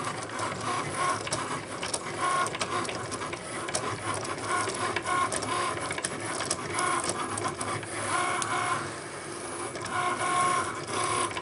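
Cricut cutting machine slicing red cardstock, a continuous close mechanical whirring and buzzing with rapid ticking of the moving blade carriage, steady and fairly quiet, with no talking.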